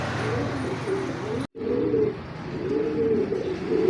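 A pigeon coos in soft, rounded, repeated calls close by, with a brief cut partway through and a quiet background.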